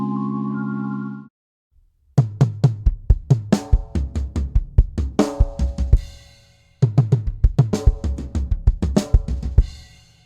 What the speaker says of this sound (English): The final part of the drum fill is 2 hits on the floor tom,